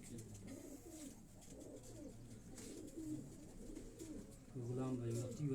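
High-flying pigeons with red eyes, kept by a pigeon fancier in Quetta, give soft, repeated throaty coos close by while someone talks over them.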